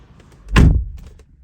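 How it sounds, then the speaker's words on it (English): The driver's door of a 2017 Buick Regal closes with one short, solid thunk, close and loud, against a quiet background. "And once we shut the door"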